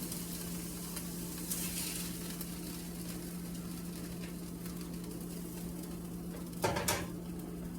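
Venison burgers sizzle steadily in a hot skillet, a constant frying hiss with occasional scrapes and a louder clatter near the end.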